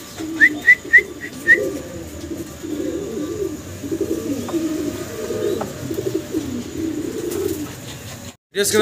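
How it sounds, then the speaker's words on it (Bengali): A breeding pair of king pigeons coos in a low, steady murmur that runs through the whole stretch, with a few short high whistles near the start and no talking. "আমরা এক পেয়ার কিং কবুতর, ভাইয়ের কিং কবুতর দেখতে পারতেছি এখানে"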